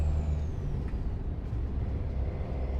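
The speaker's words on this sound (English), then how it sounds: "Trailer brakes here to help us stay under." A truck's trailer air brakes in American Truck Simulator, driving through snowy Iowa, give a steady hissing release over a continuous low engine and road rumble, close and fairly loud with no talk.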